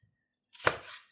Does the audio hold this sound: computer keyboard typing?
no